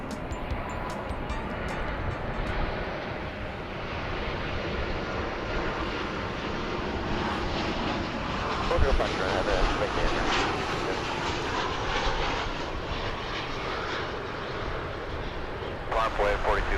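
Passenger jet airliner arriving at DFW airport from Colorado Springs, a fairly faint, distant engine rumble and whine running steadily throughout, with a slight swell near the middle and people talking over it.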